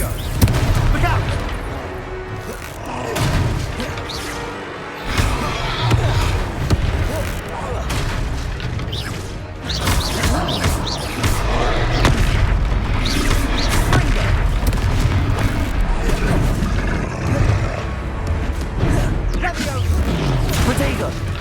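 Confringo spell blasts in the Hogwarts Legacy video game, a dense run of booming explosions and crackling impacts over continuous battle noise, loud and sustained, with character voices shouting over the fighting.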